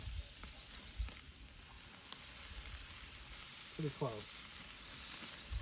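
Steak and shrimp kabobs sizzle over a hot outdoor fire, a steady close frying hiss with a few brief words spoken over it.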